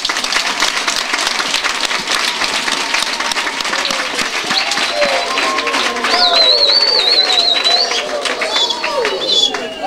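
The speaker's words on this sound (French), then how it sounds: "Est-ce que nous pouvons applaudir pour le chef de l'État?" A crowd of children and adults claps for the head of state at an outdoor gathering, dense sustained applause throughout, with whistles and scattered voices rising over it toward the end.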